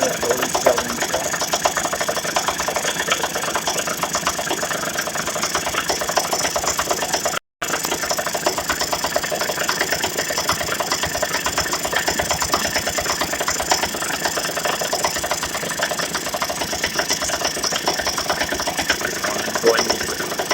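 A steady engine runs after starting with a dense, even roar and no clear change in pitch. The sound stays loud and constant throughout, with one brief dropout partway through.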